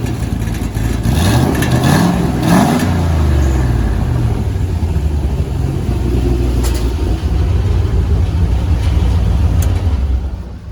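A turbocharged LS-swapped Miata engine revs repeatedly, rising and falling through several loud throttle blips over a steady rumbling idle, close by and continuous throughout.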